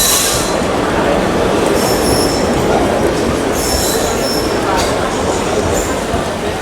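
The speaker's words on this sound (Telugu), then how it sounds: "మన ట్రైన్ 17408 విత్ VAP4 లోకోమోటివ్ అనమాట వచ్చేస్తుంది." The 17408 Mannargudi–Tirupati Pamani express, hauled by a WAP4 locomotive, pulls in. It gives a loud, continuous rumble of rolling rail cars with high wheel squeals throughout.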